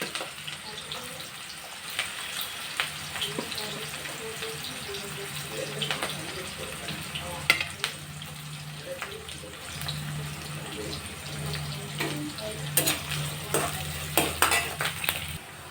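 Onions frying in a pan for vangi bath rice, a low continuous sizzle with occasional scrapes and clinks of a spatula, moderately close, with intermittent background noise and no clear talking.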